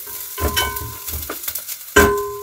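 Onions hitting hot cooking oil in a pan, with stirring scrapes and a sharp burst of sizzle near the end, close and fairly loud with no talk.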